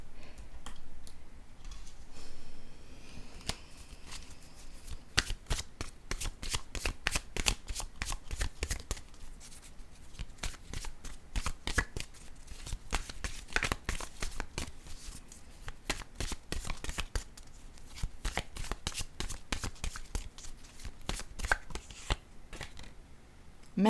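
Oracle cards being shuffled by hand, a long run of dense, crisp riffling flutters and slaps, close and steady, with no talking.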